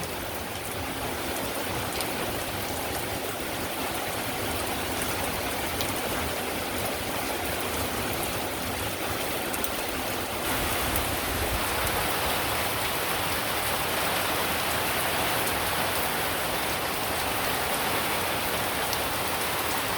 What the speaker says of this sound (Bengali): মনে হয় না যে বৃষ্টিটা থামবো